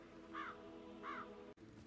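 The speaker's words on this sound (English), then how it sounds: "those stupid birds crowing like there's no tomorrow" Two distinct crow caws, evenly spaced and moderately distant, in the video game Hitman 3 on Dartmoor, over a quiet low ambient hum with no talking.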